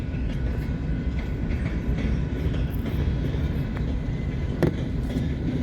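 Westbound and northbound manifest freight trains roll along the main line in Fremont, Nebraska, a steady, dense rumble with faint wheel clatter and a brief sharp clank near the end.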